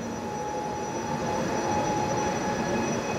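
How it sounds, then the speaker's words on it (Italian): A jazz-themed train pulls out of the station on the Portici to Napoli Campi Flegrei line, a steady, rising rumble of wheels and motors with a faint tonal whine, heard from on board with no talking. "ecco il treno sta partendo."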